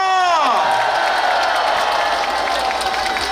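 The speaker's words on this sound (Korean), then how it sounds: "뜨거운 박수 한 번 더 부탁드리겠습니다." Loud crowd at a campaign rally for presidential candidate Lee Jae-myung in Suncheon breaks into sustained applause and cheering with whoops and shouts, a falling tone sweeping down at the start over the dense clapping.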